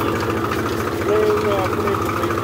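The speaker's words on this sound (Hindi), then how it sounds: "हम वेखो जी ये ट्रैक्टर किवें मुड़ता है" A tractor engine idles and runs steadily at close range with a low, throbbing mechanical rumble while it turns, and someone speaks over it.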